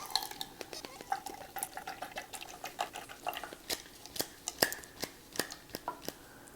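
A portable espresso maker is worked by hand, giving a steady series of quiet clicking, squeaking pump strokes in an irregular rhythm, close up and faint, with no voice.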